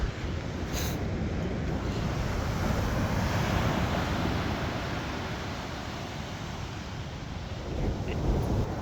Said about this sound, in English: Crashing in the waves.